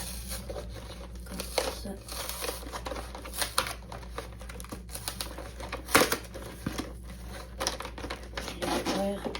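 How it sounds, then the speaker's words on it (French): Cardboard and plastic wrap crinkle and tear as a Pokémon Premium Collection box from the Destiny Rivals set is opened, with scattered crackles and rustles throughout and a person speaking briefly in French. "Alors je vais ouvrir la boîte."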